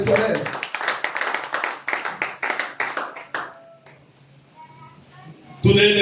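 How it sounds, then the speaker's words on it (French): A church congregation at a Sunday service applauding in rhythmic, close claps that fade out, then a sudden loud burst of sound at the end. "Can we put the hand together for the glory of God?"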